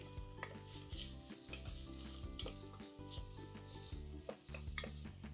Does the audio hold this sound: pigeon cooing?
no